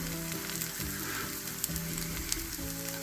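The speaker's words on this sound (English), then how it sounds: "You just give it a quick flip and you've got French toast." French toast made with farm eggs sizzles steadily in a pan, a continuous close frying hiss with a couple of small sharp pops and no talking.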